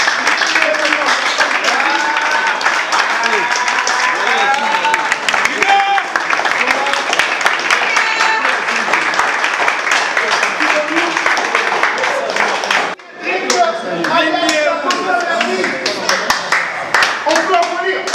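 Scattered clapping from an audience at an association meeting with an electoral commission, continuing under a loud voice that talks almost the whole time and drops out briefly near the end.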